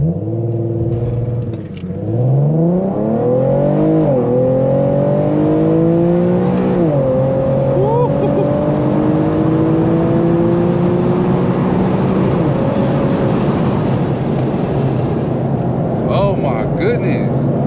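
A tuned Infiniti Q50 accelerates hard on back roads, engine rising in pitch through several gear changes with brief dips between shifts, loud and close from inside the car, easing off near the end.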